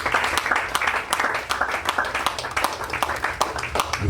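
A wedding congregation claps and applauds in a steady, lively stream of overlapping claps that fill the room at moderate loudness with no break.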